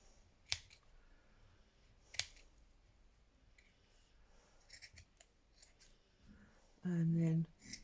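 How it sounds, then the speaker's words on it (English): Sharp snips of scissors trimming a paper leaf shape cut from a tea bag, two crisp isolated cuts followed by a few lighter clicks and a brief louder rustle near the end, close and quiet with no talk. "my scissors and cut out a leaf"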